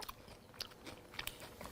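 Crispy rotisserie chicken skin gets bitten and chewed up close, a few sharp crunches spaced irregularly amid softer mouth sounds, quiet and without talk.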